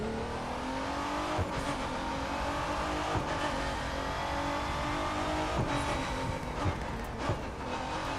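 A Ford GT in The Crew 2 racing game drones steadily at speed, with several quick downshift blips and rev changes breaking through a continuous loud engine tone.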